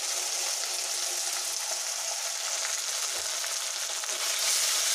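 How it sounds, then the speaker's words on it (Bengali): Two small onions hit hot oil in a frying pan, giving a loud, steady, close sizzle with no talk over it. "দুটো ছোট পেঁয়াজ দিয়ে দিচ্ছি।"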